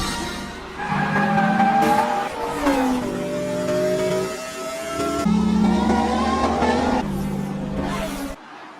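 Animated race cars from Cars 2 roar off the starting line together, engines revving loudly and shifting pitch as they accelerate, with tires squealing over a continuous dense engine drone that cuts off abruptly at the end.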